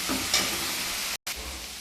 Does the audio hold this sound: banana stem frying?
yes